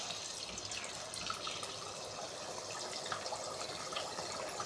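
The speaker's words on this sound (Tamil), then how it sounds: "இப்போது உடச்சி வச்சுருக்க 4 முட்டையை அதில் ஊற்றும்." Four beaten eggs pour into oil in a kadai, giving a steady liquid rush and splatter that holds at an even level throughout, with no talking.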